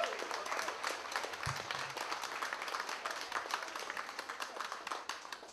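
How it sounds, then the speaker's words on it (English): Steady outdoor audience applause for a band at a Saturday concert series, a dense, even wash of many hands clapping throughout, moderately distant and fairly soft. "How about a wonderful round of applause for this great,"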